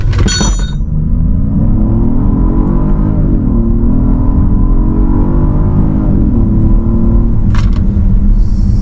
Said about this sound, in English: It has a manual launch, so press the brake fully, accelerate, build the power up.